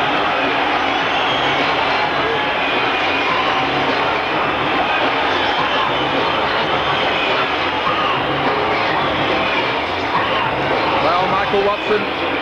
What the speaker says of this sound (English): Let's hear the applause for Michael Watson